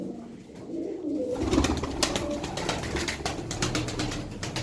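Turkish Aksaray play pigeons cooing nearby in soft repeated calls, with rustling and clattering noises around them and no talking.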